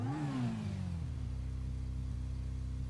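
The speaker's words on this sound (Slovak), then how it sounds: "chlapci, to je motorka!" A motorcycle engine in GTA revs with a falling pitch, then settles into a steady, close, moderately quiet idle hum.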